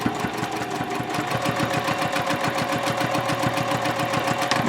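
A sewing machine stitches fabric for a triangle pouch at a 3.0 stitch length, giving a steady, fast mechanical chatter with an even rhythm, loud and close throughout, with no voices.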